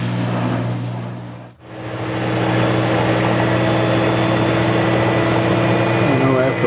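Whirlpool top-loading washing machine with an overfilling fault, spinning a load of towels: a loud, steady motor drone that dips briefly, then surges back into a continuous humming whir.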